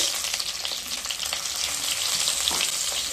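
Chopped tomato frying with a spoonful of asafoetida for a vegetarian cabbage ghonto, a steady close hissing sizzle with faint stirring scrapes throughout.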